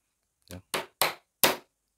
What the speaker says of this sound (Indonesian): Nah, ini ada palu. Gampang sekali kalau cuma ngelubangi gini ya.